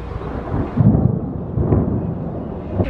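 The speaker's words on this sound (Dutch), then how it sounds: "Kom op met die donder." Thunder rumbles low and heavy in an outdoor storm, a rolling, swelling roar that surges twice without any voices.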